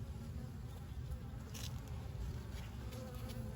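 Honeybees buzz continuously around an open hive during an inspection, a faint, dense hum with a few individual bees passing closer.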